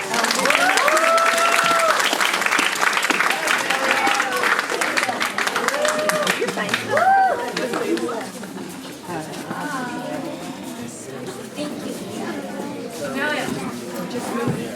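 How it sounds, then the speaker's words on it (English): A crowd claps in steady applause that slowly thins out, with scattered voices and chatter mixed in. "Let's give them a big round of applause."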